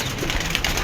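Pigeons coo softly in a loft, a short, low, murmuring call against faint background noise.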